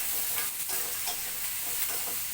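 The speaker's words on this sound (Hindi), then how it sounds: "तब इसको बस थोड़ा सा चला लेंगे, जो है कच्चापन वो हट जाए" Onions sizzle steadily in a pan while a spoon stirs them, a dense close frying hiss with soft scraping strokes throughout and no voices.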